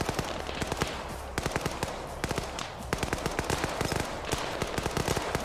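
Gunfire in the military video game Arma 3 sounds as dense, rapid bursts of automatic fire, with sharp overlapping shots that crackle continuously and fairly loudly throughout.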